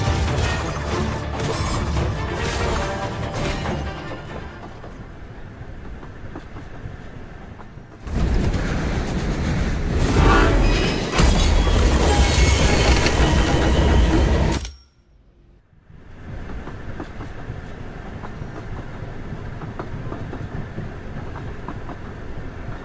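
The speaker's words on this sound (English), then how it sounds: "let's get to the driver's cab and try to stop this train." A train rumbles and clatters along rails in the Duet Night Abyss video game, loud and continuous, surging around the middle before a sudden brief drop and then a steady resumed roar, with no speech.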